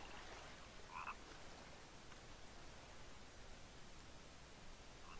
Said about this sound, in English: You can hear frogs in my audio and like in the actual game.